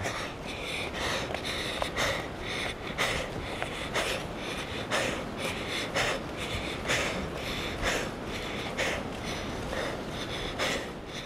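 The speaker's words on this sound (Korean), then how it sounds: "반면에 제 숨소리는 점점 더 거칠어지죠." Heavy, laboured breathing close to the ear on a mountain trek alongside porters carrying loads, rough rhythmic inhales and exhales repeating steadily throughout, no talking.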